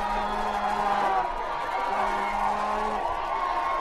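A high school football stadium crowd rising and cheering during a play, a steady, dense roar of voices with scattered whoops, a commentator talking over it.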